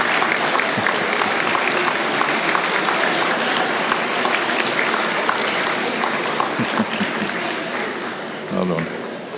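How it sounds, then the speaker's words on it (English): Graduation audience at a University of Galway autumn conferring ceremony gives a loud, sustained round of applause from a large crowd, with some talk mixed in, fading slightly toward the end. "give them a massive round of applause"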